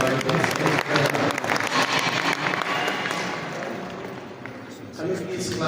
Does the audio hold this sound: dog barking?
no